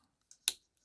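A watch bracelet clasp clicks into place, a faint small tick followed by one sharper metallic snap, close and isolated with no talk.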